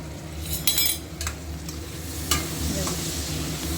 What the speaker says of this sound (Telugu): లైట్ తొందరగా ఫ్రై అవుతుంది అరటికాయ